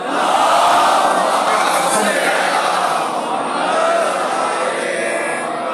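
A large congregation at a Shia majlis for Imam Ali's martyrdom on 21 Ramzan chants salawat together in unison, a loud, dense, sustained wall of massed voices with no single speaker standing out.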